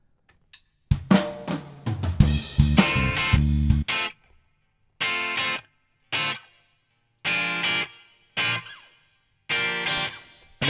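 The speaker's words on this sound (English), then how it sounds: "I'm using just the air reverb, kind of a medium hall drum setting" Distorted electric guitar recorded through Aphex J Pre 500 and RPA 500 units, with medium hall reverb, plays a run of strummed chords and then short stabs separated by pauses, each leaving a brief reverb tail.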